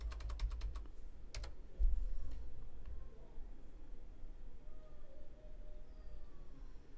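A few quick keystrokes on a computer keyboard tap out a short word near the start, then give way to faint room hum and quiet background noise.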